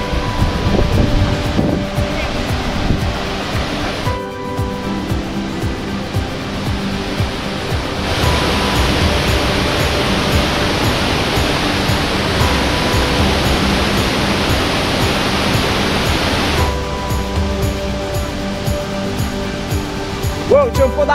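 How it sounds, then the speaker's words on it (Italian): A waterfall in the Aurina valley roars as a loud, continuous broadband rush, with shifts in intensity as the listener approaches. "stiamo arrivando alla prima cascata."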